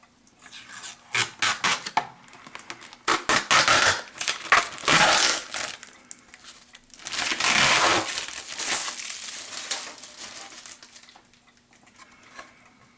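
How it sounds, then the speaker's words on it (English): Protective plastic wrap is peeled and crinkled off a Hermle 1050-020 clock movement, giving close, bursty crackling and tearing that comes in uneven spurts with short quiet gaps. "let's take that protective plastic off and see what we've got."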